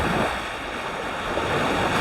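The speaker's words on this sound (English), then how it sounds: "So the wind has definitely picked up over the last hour and a half or so." Wind and waves wash onto a lake shore at a beach campsite in British Columbia, a steady broadband rush with gusty wind noise on the microphone.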